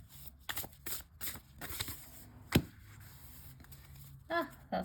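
Oracle cards get an overhand shuffle, heard as several quiet, close bursts of riffling card noise separated by short pauses, with a faint soft bump in the middle.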